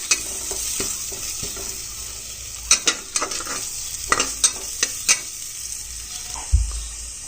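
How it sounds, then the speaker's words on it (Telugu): Carrot pieces frying in a kadai give a steady, close sizzle, broken by scattered scraping and tapping stirs and a low thump near the end. "కడాయిలు ముక్కలు కొంచెం ఫ్రై చేసుకోవాలి"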